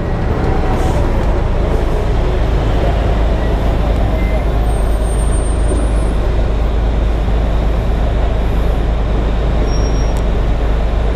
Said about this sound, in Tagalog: Kasi daming truck oh.